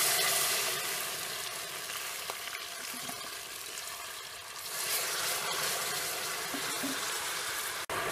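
Water poured a little at a time into melted fat in a hot pan while making caramel, giving a steady broad sizzle and hiss that swells midway and continues close and loud throughout.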